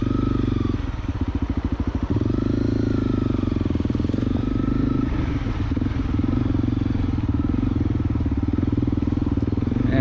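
Honda CRF250L dual-sport bike on Tractionator Enduro tires, stuck on a forest trail for lack of grip. The single-cylinder engine revs hard and steadily, loud and close, with a rapid popping exhaust throughout.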